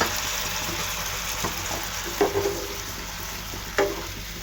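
Ground spices fry in a pan with added water, giving a steady close sizzle and bubbling, with a few soft stirring knocks.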